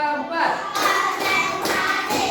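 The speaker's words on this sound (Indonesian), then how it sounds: "Kita tepuk dulu deh." Students in a classroom clap their hands together in a counting clap game led by a teacher, producing a few sharp rhythmic bursts of group clapping that sound close and fairly loud.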